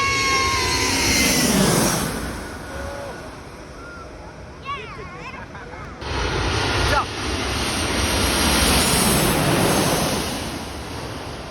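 A low-flying airplane roaring overhead at Mai Khao beach, loud at first then fading, over rushing wind and surf, with a person talking briefly in the middle.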